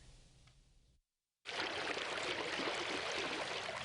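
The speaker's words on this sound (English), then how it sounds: "Lots of mud and lots of water." Floodwater after heavy rainfall rushes past homes near a state highway in Church, a loud, steady churning flow that starts after a brief gap of silence and keeps going without a break; a quieter watery wash comes before the gap.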